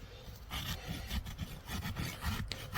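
A rasp files a large draft horse hoof in quick back-and-forth strokes, a coarse scraping rhythm heard close, with no talk.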